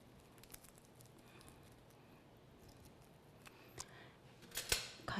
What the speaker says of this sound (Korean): 계란 지단이랑 같은 사이즈로 가위로 좀 잘라주셔도 됩니다.